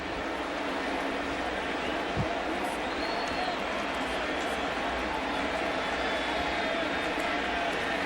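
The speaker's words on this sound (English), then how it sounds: "This crowd now is standing for Sammy Sosa." Baseball stadium crowd at Busch Stadium in St. Louis during a 1998 Cubs game, a steady, dense roar of cheering and murmur that holds at even loudness throughout, with no clear peaks.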